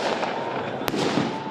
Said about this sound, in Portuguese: Manifestantes comemoraram a prisão dos dois com fogos de artifício.